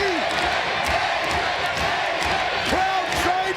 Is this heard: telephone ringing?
no